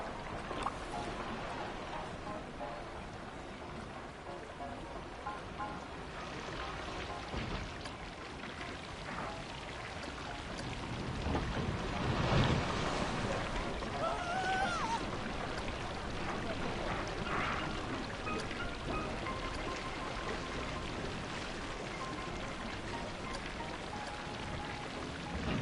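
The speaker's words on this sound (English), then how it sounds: "We got water effects that might help." Water effects in the video game Planet Coaster give a steady, soft wash of pouring, rain-like spray that runs throughout, with a slightly fuller swell partway through.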